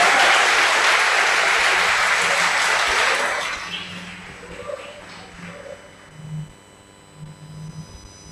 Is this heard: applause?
yes